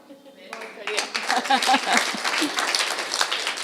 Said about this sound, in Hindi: हम सभी सुकृत के लिए ताली बजाएंगे, क्योंकि ये बहुत ही अच्छा बच्चा है।